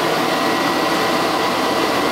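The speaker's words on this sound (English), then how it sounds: "Now when I take the vacuum cleaner and actually lift it off the ground," A vacuum cleaner runs with a steady, loud broadband whoosh and low hum while held lifted off the floor, the airflow roar constant throughout with no talk.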